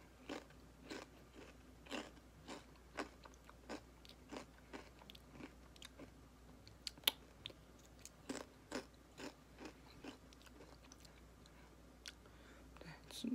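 Someone bites and chews a lime-flavored chip, giving a series of sharp, close crunches at an irregular, roughly steady pace, each crack short and crisp against a quiet background.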